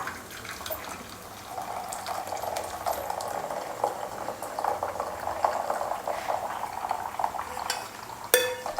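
Masala tea bubbling at a steady rolling boil in a pot, continuous and close, with a brief clink near the end.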